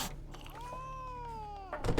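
A single drawn-out cat meow in The Witcher 3, clear and tonal over a low background hum, rising then slowly falling before fading into faint clatter.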